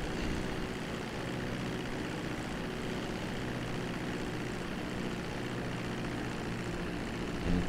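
A propeller airplane engine drones steadily in GTA V Online, a dense constant roar with no breaks and no voices over it.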